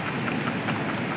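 Heavy rain pours steadily in Hengipora, Kashmir, a dense, continuous hiss of drops on surfaces that stays loud and even throughout, with no voices.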